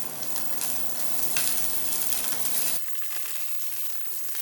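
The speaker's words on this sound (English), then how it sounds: "I'm gonna drop these right in. And we're just gonna fry them up and get them brown." Sausages sizzle loudly in hot, smoking olive oil, a dense, crackling fry that runs steadily close up and drops to a softer simmering hiss near the end.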